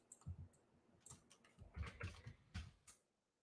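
Quiet, close keystrokes on a computer keyboard come in short irregular bursts of soft clicks, separated by brief pauses, with no one talking over them.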